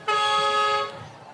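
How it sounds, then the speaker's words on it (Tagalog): A single loud, steady horn blast sounds for under a second, close by, then cuts off leaving faint background noise. "Lakas ng busina, no?"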